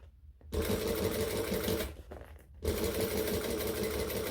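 A sewing machine back stitches a handbag, its needle chattering in a rapid continuous run, then stopping briefly before starting up again, close and clear.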